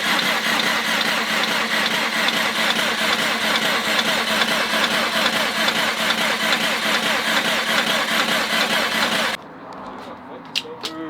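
A Subaru WRX STI engine in a rebuild idles loudly and steadily with a throbbing, slightly rough note for most of the time, then cuts off, leaving quieter background with a few clicks.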